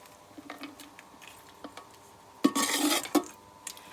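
Ghee-fried cashews and raisins are stirred into ghee rice for Kerala-style chicken biryani, with scattered light clinks of a spoon on a pot, then a loud, scraping burst of stirring and a final knock.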